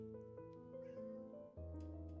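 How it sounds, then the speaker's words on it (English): A pet cat chirps and trills in a short run of bright, warbling calls, close by, over a steady tonal background hum. "One of my cats is chirping at me."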